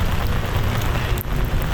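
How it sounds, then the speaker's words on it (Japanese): Heavy rain pours down on a Manila street, a loud, dense, continuous roar of drops striking the ground, with no voices. "雨がすごいのよ"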